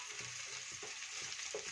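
Onions and tomatoes fry in a pan for vermicelli upma, making a faint, continuous sizzle with soft, regular stirring scrapes. No one talks.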